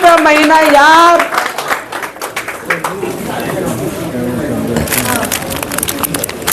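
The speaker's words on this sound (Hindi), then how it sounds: "ताली साहब के लिए तालियां जोर से" Clapping from a gathered audience at a rural discussion meeting, a burst that fades into scattered claps while people talk loudly over it.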